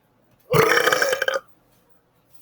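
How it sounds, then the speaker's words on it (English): A single loud, close burp from a man, lasting under a second, followed by near silence. "And I just for your entertainment, I burp."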